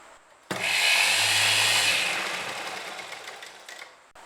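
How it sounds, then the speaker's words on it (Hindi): An electric sewing machine runs in one continuous burst of stitching, joining the cut fabric panels of a kurti; a steady close whir that starts abruptly, eases off gradually and stops, with no talk over it. "नॉर्मल सी सिलाई आपको लगानी है और इसके साथ इसको जॉइंट कर लेना है।"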